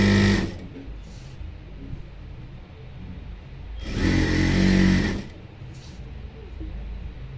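Sewing machine stitching thick elastic onto women's pyjamas: two short bursts of fast, whirring stitching separated by a quiet pause, close and fairly loud.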